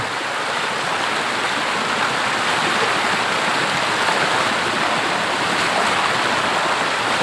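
Floodwater flowing across flooded rice paddies in Kantharalak and Huai Samran, Thailand: a loud, constant rushing wash of water with no pauses and no talking.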